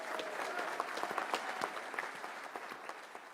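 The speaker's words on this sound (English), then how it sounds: "Give a hand to the CPAC staff and to the board" An audience at a political conference applauds the conference staff and board, steady clapping from a crowd filling the room with scattered louder claps throughout.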